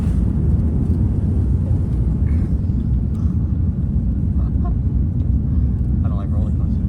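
An airplane takes off, heard from inside the cabin as a loud, constant low rumble of engines and airframe, with faint voices murmuring in the background.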